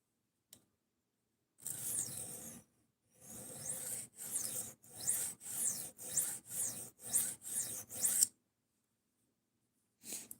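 A knife blade is stroked against a sharpening surface in a steady run of about ten crisp scraping passes with short gaps between them, close and clear, with a lone scrape at the start and another at the end.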